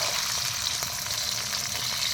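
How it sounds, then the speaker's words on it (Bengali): Cashews and raisins frying in hot ghee with whole spices, a constant bright sizzle heard close up and alone. "কাজু আর কিশমিশটা দিয়ে দিলাম, হালকা করে ভেজে নেব।"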